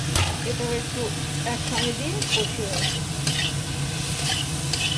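Mixed vegetables sautéing with salt and green chili in a pan, a steady sizzle broken by regular stirring scrapes, with faint talk in the background.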